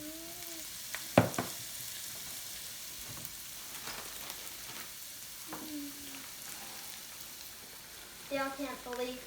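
Frozen peas tipped into a pan of frying garlic and onions: a steady sizzle with one sharp clatter early on and a burst of stirring near the end, with brief voice sounds in the background.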